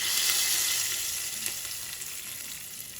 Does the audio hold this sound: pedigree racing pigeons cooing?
no